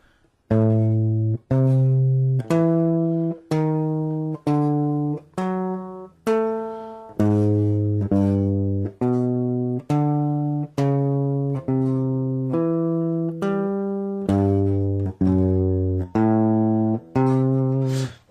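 Bass guitar arpeggios plucked with the thumb in a walking bass style, a steady series of clear, separate low notes played alone at an even, unhurried pace.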